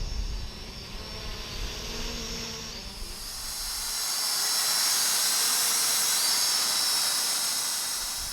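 Hubsan H502S X4 Desire GPS quadcopter drone hovering outdoors in wind, a steady high-pitched rotor whine that swells louder midway through, mixed with broadband wind hiss.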